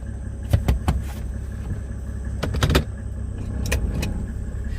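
A Mercedes-Benz W210 with an OM606 diesel engine, heard from the cabin as a steady low rumble, with several sharp clicks and clunks from inside the car. No one speaks.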